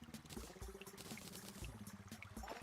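Water flowing in the video game Terraria after an explosion blew a hole, a continuous bubbling, trickling pour with soft gurgles throughout.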